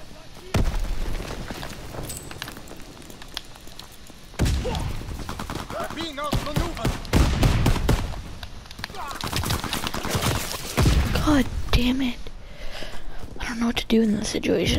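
Bursts of automatic and single-shot gunfire from a PS4 team deathmatch shooter, loud and near, crackling in dense clusters with brief pauses, while voices talk throughout.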